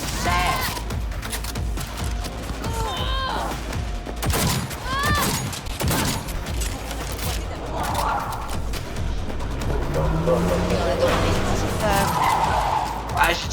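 Gunfire in the video game Cyberpunk 2077, rapid shots and bursts mixed with screeching tyres, crashes and game effects, dense and loud throughout with voices speaking over the action.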